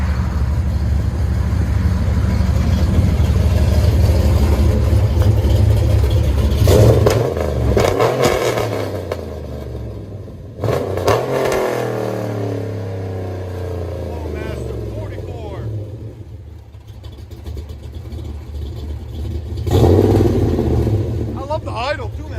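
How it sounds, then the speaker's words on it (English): A cammed 2016 RAM 1500 with a 5.7L Hemi, true dual exhaust, long tube headers and Flowmaster mufflers, rumbles steadily at idle with several loud revs; people talk over the engine. "The idle too, man. That idle sounds good."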